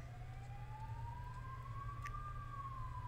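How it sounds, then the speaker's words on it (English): A single ambulance siren tone slowly rising and falling over steady traffic rumble, moderately distant and continuous. "Now let's all listen together to the ambulance."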